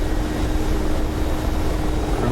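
Helicopter in a combat video game set in the Soviet-Afghan War, a loud, steady rotor and engine roar filling the moment without pause.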